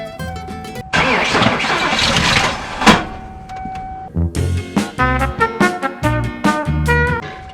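A cheap van's engine cranks with a whirring starter, then grinds and churns roughly in uneven bursts, loud and close.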